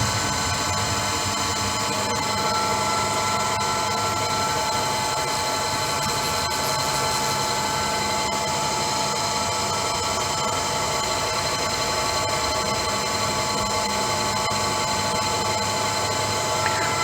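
CNC machine running as it moves along the Y axis while making a swing bolt handle, a loud, steady whirring drone with a sustained tonal whine that holds constant throughout, no speech.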